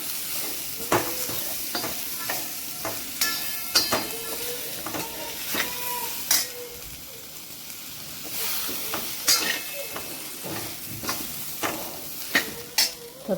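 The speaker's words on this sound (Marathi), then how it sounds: "याच्यामध्ये आता आपण याच्यामध्ये वांगे आणि बटाटे मिक्स करून असे कापायचे फोडणीमध्ये आणि त्याला छान असं फोडणीत परतून घ्यायचं." Eggplant and potato pieces stir-fried in a hot spiced oil tempering, a steady sizzle broken by repeated scraping and clinking of a spatula against the pan, fairly close.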